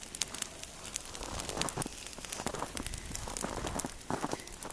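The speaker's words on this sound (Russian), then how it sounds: "Костер горит, снег плавится, дым идет." Bonfire lit on a heap of snow on New Year's Eve, snow melting and smoke rising outdoors, giving off a steady crackle with scattered sharp pops over a soft hiss, close and fairly quiet, with no talking.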